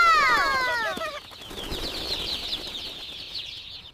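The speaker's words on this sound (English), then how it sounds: "Bird incoming!" Wings flap in a rapid flurry as a bird takes off nearby, with excited bird-like chirping squeals at the start before the fluttering trails off over a couple of seconds.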